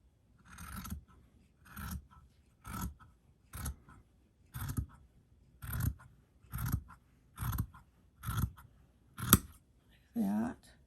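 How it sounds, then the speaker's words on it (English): Scissors snip repeatedly through material for an Easter gnome craft, cutting from a corner toward the center, with about ten evenly spaced crisp cuts close up and a quiet room between them. "You just want to cut from the corner down here"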